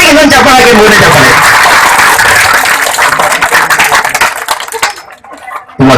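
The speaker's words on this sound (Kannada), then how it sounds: "ಎಲ್ಲರೂ ಜೋರಾಗಿ ಇನ್ನೊಂದು ಚಪ್ಪಾಳೆ ಹಾಕಿ, ಮೂರನೇ ಚಪ್ಪಾಳೆ" Loud, dense audience applause fills a teacher tribute event honouring a long-serving schoolteacher, a sustained wash of many hands that thins out and drops away near the end, with voices mixed in.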